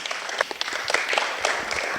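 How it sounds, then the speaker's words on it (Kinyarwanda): Audience applause at a Burundian campaign gathering in Brussels, a steady spread of handclaps lasting a couple of seconds at moderate volume, with no one speaking over it. "ndagira ngo mumpera amashyi rwose"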